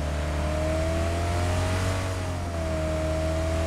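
A steady engine drone hums continuously, its pitch shifting slightly as if revving, from a car in the video game PUBG on the Miramar map.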